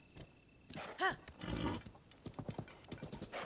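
Horse hooves clip-clop in Zelda: Tears of the Kingdom, with a loud, close whinny breaking in near the start of a steady trot.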